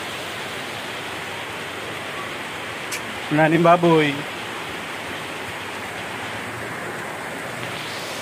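Floodwater from the overflowing Puso Negro rushes steadily during Typhoon Kristine, a continuous broadband roar like a stream or waterfall, with a brief burst of nearby talk midway.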